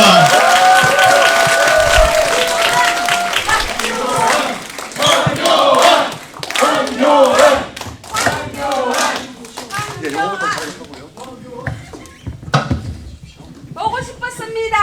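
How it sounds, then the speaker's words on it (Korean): A large lecture audience claps and cheers loudly after a speech by Prime Minister Hwang Kyo-ahn, dense clapping and shouts rolling on for several seconds before thinning out into scattered claps and voices. "다시 한번 큰 박수 부탁드리겠습니다"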